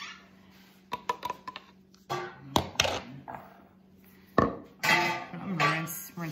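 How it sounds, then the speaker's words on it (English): A coffee cup being rinsed brings clinks and knocks of dishes and cutlery, irregular and close, with bursts of running water and splashing in the second half. "I'm gonna rinse this cup out real quick."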